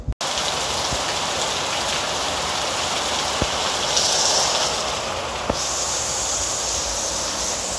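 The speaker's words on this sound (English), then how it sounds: "Look at that rain. Definitely not normal." Unusually heavy November rain pours down in Merida, Mexico, a dense, loud, steady hiss with a few faint clicks, no talk.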